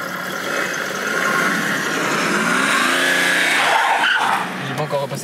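A BMW car engine accelerates, its pitch climbing steadily over several seconds, loud and close, while people talk and shout over it.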